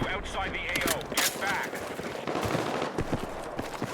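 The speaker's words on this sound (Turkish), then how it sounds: "Hadi ben bunu mermi de atayım." Rapid bursts of automatic gunfire from Battlefield 6 crackle at close range, mixed with a player talking over the shots.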